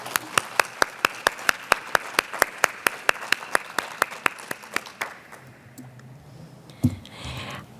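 Attendees at a Brazilian property registry officers' conference give a round of applause for Fábio, crisp, evenly spaced claps close by for about five seconds, then fading into quiet room noise with a brief thump.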